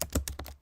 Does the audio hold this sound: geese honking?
no